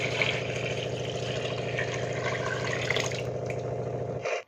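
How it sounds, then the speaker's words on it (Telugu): Water pours in a steady, continuous stream into a pot of drumstick sambar, holding an even gurgling rush for about four seconds before cutting off abruptly. "నేను సాంబారు తగినంత వాటర్ అయితే యాడ్ చేసుకున్నాను"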